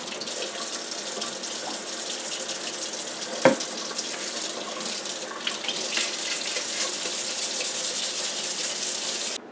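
Water runs steadily from a tap over a knife blade forged San Mai style from a railroad spike, being washed with dish soap after sanding with 1200 grit sandpaper, a continuous close hiss with one brief knock partway through.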